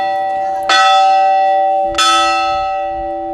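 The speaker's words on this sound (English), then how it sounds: "they say that if you ding this bell 3 times, your wish will come true" A church bell on a hilltop near a tenth-century church in Spain is struck twice, ringing loud and close with a bright metallic clang and a long shimmering decay after each strike.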